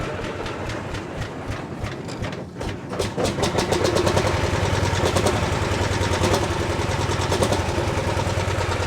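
An old Farmall M petrol tractor, restored after sitting idle for decades, idles steadily nearby with a loud, even rapid chugging that grows fuller after a few seconds, no voices.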